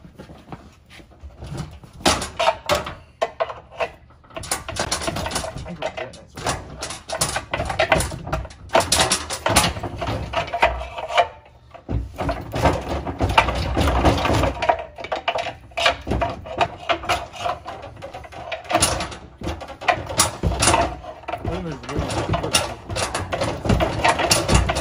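Metal pump parts being pried apart on a broken transmission input pump with a cracked stator, giving irregular scraping, clicking and clanking bursts of mechanical effort, close and fairly loud, with no talking.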